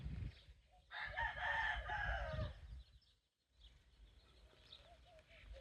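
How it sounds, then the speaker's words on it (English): A rooster crows loudly and close for about two seconds, with chicken clucks and smaller chick calls around it, followed by a short quiet gap and then softer farmyard bird sounds. "We've got a little chicken and some baby chicks over here."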